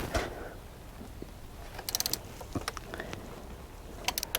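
A ratchet clicks in short bursts while tightening spark plugs on a VW Atlas engine, with sparse metallic ticks and faint mechanical rattles, close and moderately quiet.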